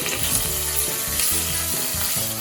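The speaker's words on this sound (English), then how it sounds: "cook the onions till they are translucent in color" Chopped onion fries in a pan with cloves, cardamom, cinnamon sticks, black peppercorns, fennel seeds and green chilies, giving a loud, steady sizzle with rhythmic stirring strokes. No voices are heard.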